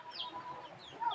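Chickens cluck softly nearby with a small chick among them, several short calls rising over a low background, one brighter peep near the end.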